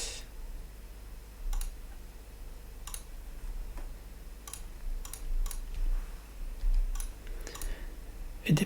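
Quick bursts of key clicks from typing on a computer keyboard, sparse and irregular taps spread across a quiet room, fairly close and soft.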